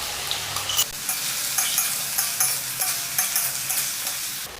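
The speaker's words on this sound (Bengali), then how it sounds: "একটু সাদা তেল গরম হয়ে এসেছে, এখন একটু গোটা জিরে, কুচিয়ে রাখা পেঁয়াজ" Cumin seeds and chopped onion fry in hot white oil, a bright crackling sizzle close up, broken by regular spatula stirs and scrapes, no speech.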